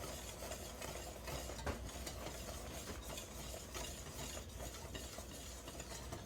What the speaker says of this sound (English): Quickly stir in vanilla.